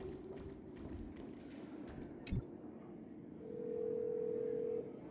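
A desk phone in the Honkai Star Rail video game gives a sustained steady dial tone after a few clicks and a soft knock, clear and even against a low ambient game soundtrack.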